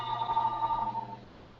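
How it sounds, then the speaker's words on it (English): A phone rings with a steady electronic tone for about a second before cutting off, fairly loud and close with no talking. "Sorry about my phone ringing real quick"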